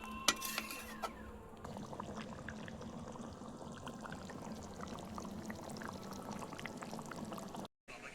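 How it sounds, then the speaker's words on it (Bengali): Hot water poured into a pot of boiling potatoes cooking over an outdoor clay stove: a steady close splashing pour running several seconds, with a sharp clink near the start. "একটু গরম জল করে নিয়ে এসেছি নিচে থেকে গরম জলটা দিয়ে দেবো"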